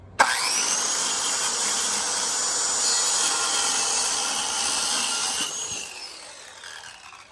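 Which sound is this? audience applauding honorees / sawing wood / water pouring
sawing wood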